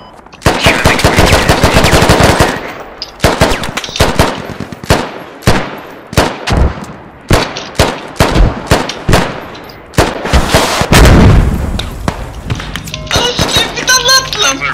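Rapid machine-gun bursts and single gunshots with heavy thumps from mortar fire in the Squad military shooter game, loud and dense, firing in repeated volleys throughout.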